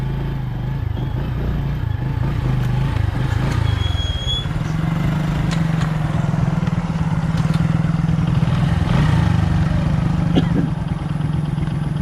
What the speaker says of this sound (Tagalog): Kaya mo yata ipasok yung motor.